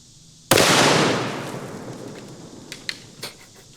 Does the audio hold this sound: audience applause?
no